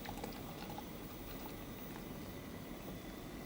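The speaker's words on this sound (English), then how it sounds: "Once the cream comes up to the boil, which it is about to do, you pour it onto those egg yolks" Cream heated in a saucepan for a custard-style sauce simmers toward the boil, giving a steady, close bubbling hiss that holds evenly throughout with no talk.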